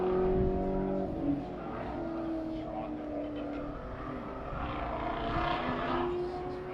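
A race car comes through twisty final corners on a drying track at a morning session in NOLA: a distant engine note rises and falls with gear changes, steady and moderate, under a commentator's voice.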